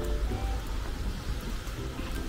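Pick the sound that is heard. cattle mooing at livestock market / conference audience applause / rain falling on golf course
rain falling on golf course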